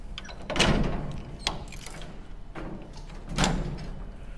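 Display doors at a zoo exhibit open with a few distinct thumps and sliding knocks, two louder bumps standing out against a quiet room with no one talking.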